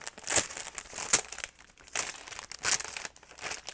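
A plastic bag crinkles up close in steady, rustling bursts of crackling as it is handled during packing of journal supplies, with no talking.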